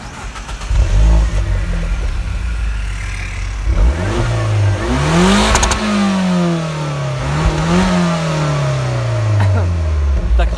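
A Peugeot 207 is started up close and revved several times, the engine note climbing and falling in rising sweeps over a steady idle, with people talking in the background.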